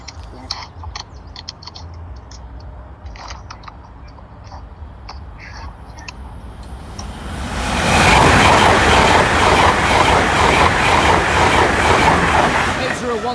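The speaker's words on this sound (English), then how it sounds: "Here's train 1 of this closure." A train passes over the Bathley Lane level crossing in a rising, loud rumbling rush from about eight seconds on, after a quieter stretch of tapping and rustling at the crossing.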